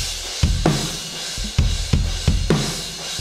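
Drum kit groove run through a bus chain of compression, saturation and room reverb, the kick and snare hitting hard and dense with a thick, sustained cymbal wash and a roomy, squashed character.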